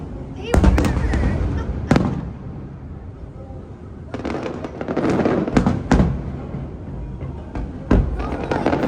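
Fireworks burst over Waikiki at the Honolulu Festival, several loud booming explosions spaced a few seconds apart with crackling tails between them, while spectators talk and react in the background.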